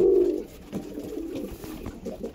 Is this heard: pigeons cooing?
yes